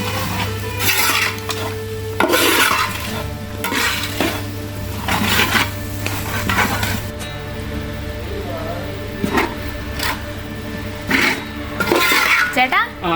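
Goat tripe curry with masala being stirred in a pot, with irregular scraping and clattering of the spoon against the pot close up and voices in the background.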